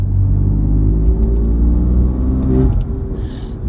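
A loud, deep BMW M4 exhaust with S55 engine, sports cats and carbon fibre intakes rumbles steadily at close range while revving, then eases off near the end with a faint crackle.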